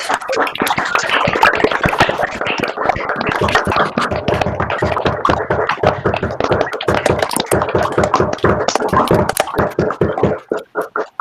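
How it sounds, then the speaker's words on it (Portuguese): Online academic colloquium participants clap over open microphones, producing a dense, continuous patter of hand claps at close range that runs steadily and thins out toward the end. "abrir o microfone e agradecer com palmas a apresentadora"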